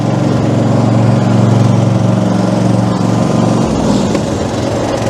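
Ride-on lawn mower engine racing at full throttle, a loud continuous buzzing drone that dips and shifts pitch partway through, close up with no talking.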